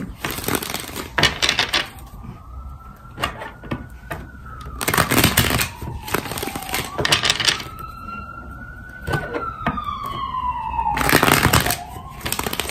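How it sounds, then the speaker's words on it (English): Ambulance siren passing outside, a rising and falling wail heard faintly through the walls, mixed with loud, sharp tapping and clicking close by indoors. "That's an ambulance that's going by outside."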